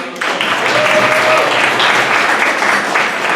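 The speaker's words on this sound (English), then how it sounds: "round of applause." A steady round of applause from an audience at a neighborhood association listening session with the mayor, dense, even clapping that holds for the whole stretch.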